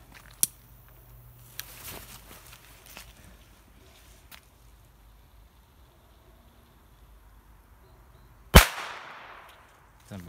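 A pirát firecracker goes off with one sharp, loud bang near the end, trailing a brief crackling decay, after scattered faint taps and rustles outdoors.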